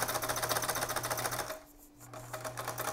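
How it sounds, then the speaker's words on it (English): A sewing machine back-stitches elastic onto a homemade respirator mask, its rapid even needle chatter running close and steady, pausing briefly partway before resuming at the same pace. "make sure you double stitch over your elastic"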